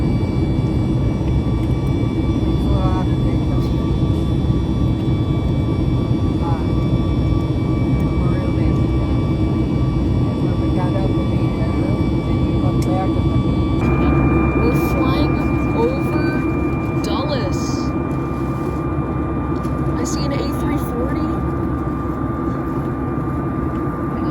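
Steady roar of aircraft jet engines at an airport, loud and continuous throughout, with a high whine that shifts pitch partway through as engines change power.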